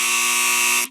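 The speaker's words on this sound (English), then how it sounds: "Because I have a buzzer this week." A game show buzzer blares a loud, steady electronic tone for about a second, then cuts off, heard alone without talk.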